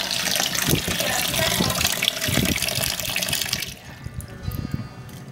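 Water from a tap running into a sink, a steady splashing rush that stops abruptly partway through, leaving a quieter trickle and faint drips.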